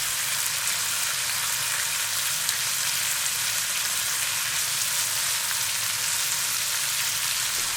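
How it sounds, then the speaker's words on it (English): Bacon fries in sunflower oil in a pan over fairly high heat, giving a loud, steady crackling sizzle that runs unbroken throughout, with no talking. "Put it on a fairly high heat and fry the bacon until crisp."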